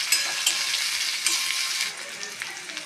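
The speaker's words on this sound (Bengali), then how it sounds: "মিডিয়াম সাইজে আমি দুটো পেঁয়াজ কেটে রেখেছিলাম, দিয়ে দেবো এবার পেঁয়াজটা।" Chopped onions frying with nigella seeds in hot oil, a bright close sizzle with several sharp crackles and stirring scrapes, easing slightly toward the end.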